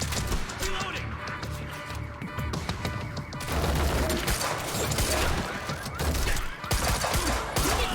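Rapid bursts of automatic gunfire come from a gun in the video game Quantum Break, dense and close. The shots run almost continuously under game noise, and a player's voice is heard at times.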